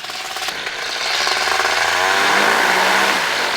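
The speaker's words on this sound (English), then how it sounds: "There is no way I'm going to hold this engine to do a power check" A light aircraft engine runs up for a power check, its drone rising and steadying into a loud, continuous roar up close.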